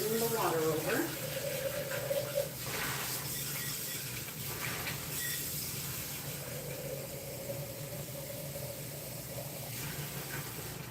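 A kitchen tap runs steadily at a stovetop while pâte à choux is being made, a soft hiss of flowing water beneath someone talking.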